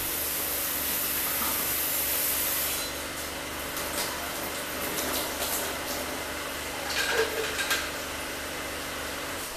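Korean-made slow juicer parts being rinsed under running water, a steady hiss of water that is loud at first and then softer, with occasional clatter of plastic parts, no talking.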